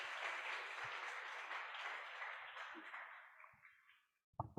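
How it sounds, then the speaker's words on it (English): Applause from an audience at a leadership training session, a dense wash of clapping that gradually thins and fades out, followed by a few brief knocks and handling sounds at the end. "Can we get a round of applause now for DG Mel"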